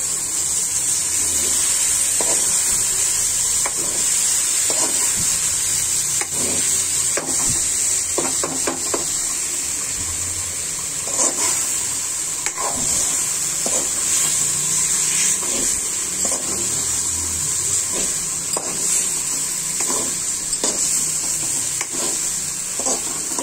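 Lotta fish (Bombay duck) fries in mustard while being stirred, producing a loud continuous sizzle broken by repeated scraping and stirring sounds close by.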